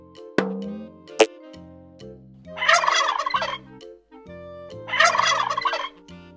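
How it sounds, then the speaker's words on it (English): A turkey gobbles in two long rattling bursts a couple of seconds apart, preceded by a couple of sharp knocks, loud and close with no talking. "Turkey."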